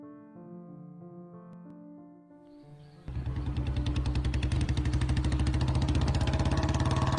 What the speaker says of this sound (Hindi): तेजी से बुलेट चलाते हुए गुरी अपने कॉलेज की ओर जा रहा था।